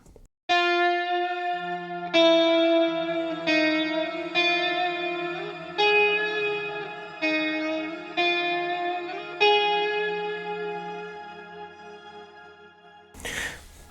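Clean electric guitar on the neck pickup picking a sustained bachata melodic line with a warm, rounded tone, washed in noticeable reverb and slight echo, ending with a brief noisy burst.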